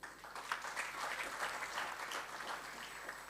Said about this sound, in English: you could stand up and we clap for you